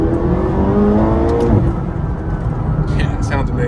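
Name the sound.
McLaren 570GT engine accelerating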